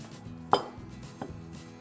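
A knife cuts into a frosted carrot cake, giving one sharp clink against the plate followed a moment later by a softer tap, close and fairly quiet.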